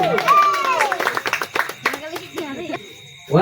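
A game audience claps along during a festive full-moon-day donation game. A short, scattered patter of hand claps runs beneath excited talk and children's voices, with loud, close chatter throughout.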